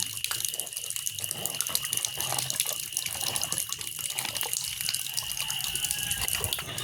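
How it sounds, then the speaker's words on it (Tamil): Tap water runs steadily into a sink in an outdoor village setting during washing of food for a Thai Pusam harvest ritual, a continuous close splashing flow with no talk. "குழாய் விடுவோம்"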